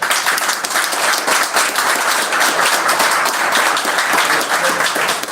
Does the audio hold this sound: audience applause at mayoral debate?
yes